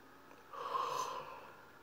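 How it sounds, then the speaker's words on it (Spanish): A single drawn-out yawn from a singing teacher demonstrating the technique, a breathy rising and falling exhalation of about a second, close and fairly quiet, with no talking. "Primero, bostezar."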